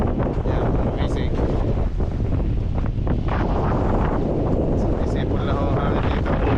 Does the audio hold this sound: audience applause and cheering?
no